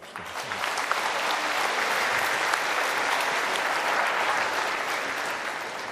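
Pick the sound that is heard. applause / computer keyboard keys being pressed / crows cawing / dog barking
applause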